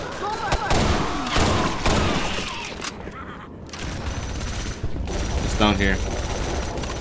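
Dense, continuous gunfire from Left 4 Dead zombie-survival combat, rapid shots and thuds filling the whole stretch, with a player's voice speaking briefly over the chaos.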